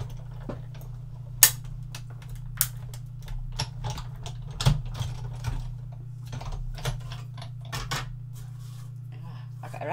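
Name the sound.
die-cutting machine running card through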